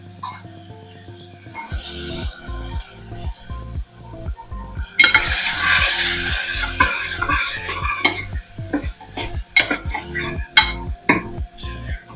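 Tomatoes sautéing in a pan for mixed dal, a rhythmic series of spatula scrapes and knocks over a soft sizzle, with a louder hiss burst midway, close and continuous.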